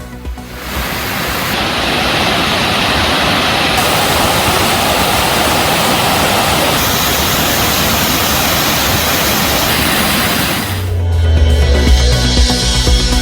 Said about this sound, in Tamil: தேனி மாவட்டம் கும்பக்கரை அருவியில் வெள்ளப்பெருக்கு.